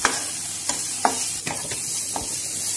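Chopped onion and tomato stirred in a hot frying pan for green peas kurma. A bright continuous sizzle runs throughout, with several crisp spatula scrapes at irregular intervals, close up and fairly loud.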